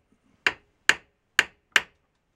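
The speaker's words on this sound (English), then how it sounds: "So I'm just going to put another ball peen hammer on here and lightly tap on it." A ball peen hammer lightly taps a metal drum cymbal stand on a 1965 Ludwig Club Date kit, four crisp close strikes in steady succession with silence between, no talking.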